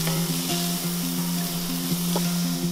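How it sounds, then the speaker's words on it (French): Steady sizzling of diced onion frying in olive oil in a saucepan, continuous and close, with a faint tonal hum underneath. "je chauffe 2 cuillères à soupe d'huile d'olive dans une casserole. J'y ajoute un oignon coupé en dés"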